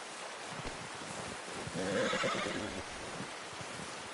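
A horse in the Western video game Red Dead Redemption gives a single mid-clip whinny over a steady hiss of ambient noise, without any voices.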